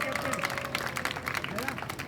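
A crowd of children claps steadily in brief applause at a school sports meet closing ceremony while a voice speaks over it.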